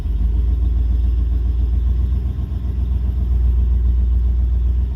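A 1978 Dodge Ramcharger engine runs while driving, giving a steady low rumble with a faint mechanical clatter that holds at an even level throughout, with no talking.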